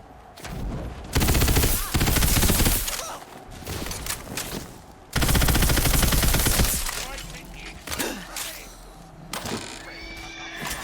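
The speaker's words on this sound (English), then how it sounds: "this SMG that I'm using, I've had this one since the beginning of the game" Submachine gun fire in the Tiny Tina's Wonderlands video game, loud rapid bursts alternating with quieter stretches of game effects, including what resembles a horse whinny, with no talk over it.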